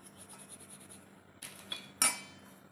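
Metal scraping and clinking while a tarnished brass lamp is scrubbed clean: soft, steady rubbing first, then a few sharper metallic clinks and a brief louder scrape near the end, close by with no talk.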